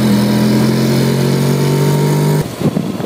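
A 2014 Honda NC 750 S Integra motorcycle engine drones loudly at a steady pitch while accelerating, then cuts off abruptly into rough, lower rumbling near the end.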